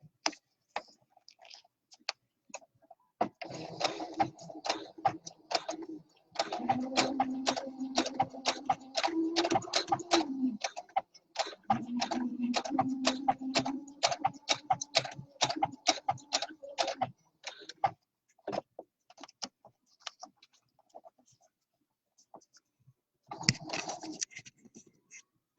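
A sewing machine runs in bursts of rapid ticking stitches while top stitching a row along the fabric cuff of a pair of leg sleeves, pausing between runs, close and fairly quiet.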